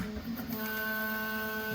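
Prusa XL 3D printer toolhead docking to wipe during a spool change, a soft whirring hum with steady tonal motor whine, quiet and close, with no talking.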